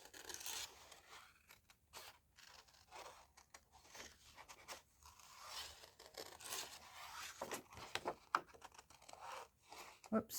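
Scissors snipping loosely around a paper leaf shape for a journal pocket craft, a quiet series of irregular cuts and paper rustles close up with no talking.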